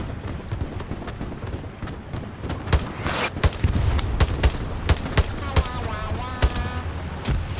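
Rapid bursts of rifle and machine-gun fire in the World War II shooter Hell Let Loose, sharp repeated cracks at irregular intervals, some near and loud, over a rumbling battlefield background.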